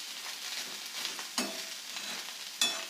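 Spiced onion and kuda flower vegetable mixture stirred in a pan, a soft low sizzle with two sharper scraping strokes of the spatula, quiet and close.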